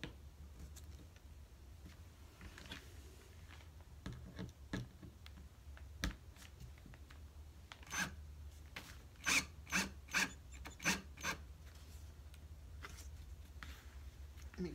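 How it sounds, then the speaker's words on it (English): Quiet scattered creaks and rasping clicks as a screw is turned by hand into a wooden canvas frame, becoming a tight series of squeaky twists near the end. "Get the screw in my little hole there."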